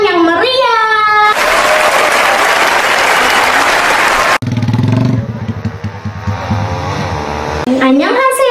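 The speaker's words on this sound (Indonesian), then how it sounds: "Beri tepukan yang meriah." Audience applause welcoming a singer on stage at a primary-school presentation, a dense loud burst of clapping lasting a few seconds, framed by music and voices before and after.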